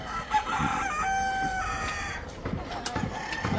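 Free-range country chickens fill a poultry farm shed, with a rooster crowing and hens clucking in a steady, busy flock chorus that stays fairly close and continuous throughout.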